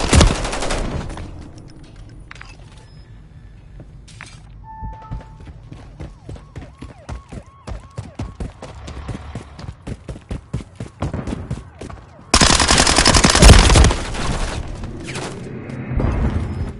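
Call of Duty MW3 multiplayer gunfire: loud, close bursts of rapid automatic shots with short gaps, ending in a long dense barrage of heavy firing.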